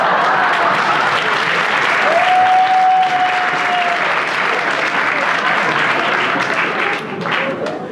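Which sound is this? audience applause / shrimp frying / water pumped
audience applause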